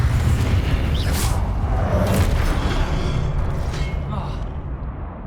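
A Confringo spell in Hogwarts Legacy bursts with a heavy, booming explosion that rumbles low and loud, then slowly fades.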